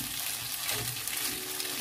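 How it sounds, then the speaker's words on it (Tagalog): Pasta with broccoli and sliced smoked pork belly tossed in a hot pan, giving a steady, dense sizzle with soft stirring scrapes, close and continuous, with no talk. "Sinama na natin ang pasta. Ating hahaluin."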